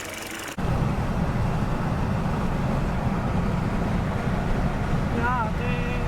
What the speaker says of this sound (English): finally the engine is running now